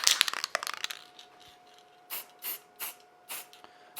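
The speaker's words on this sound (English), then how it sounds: "make sure you put some scan spray on them" Four short hissing bursts of aerosol 3D-scanning spray in a row, evenly spaced, after some clinking handling noises, with a faint steady tone underneath.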